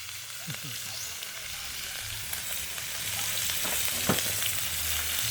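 Sliced onion sizzles in hot cooking oil with a soft, continuous crackle and occasional light clinks from a utensil, fairly quiet with some faint background activity.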